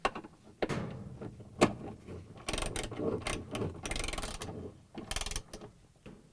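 Half-inch socket wrench ratcheting bolts into the drive motor of a Maytag washing machine, heard as bursts of quick close clicking separated by short pauses, with no talk.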